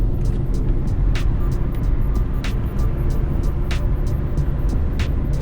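A 2013 Hyundai Accent five-door hatchback, front-wheel drive with a modest engine, cruises along a road. A steady low rumble of engine and road noise fills the cabin, with faint periodic ticks over it.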